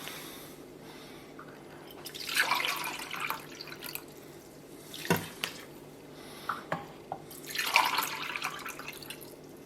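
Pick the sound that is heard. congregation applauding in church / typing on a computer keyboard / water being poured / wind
water being poured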